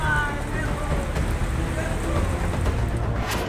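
Heavy monsoon rain pours down in Rajgarh, Madhya Pradesh, during severe flooding, a dense and loud continuous hiss and roar that stays steady and unbroken throughout.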